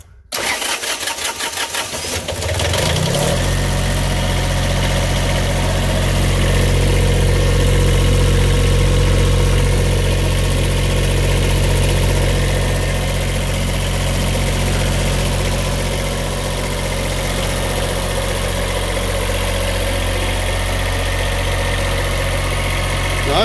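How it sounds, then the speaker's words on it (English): An 8K diesel Kubota generator in a 1965 GM 4106 bus conversion in Arizona, cranking briefly, catching, then settling into a steady, loud, droning idle that runs on continuously. "let's fire up this 8K diesel Kubota generator up"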